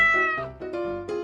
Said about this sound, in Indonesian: Nah, ini suara kucing.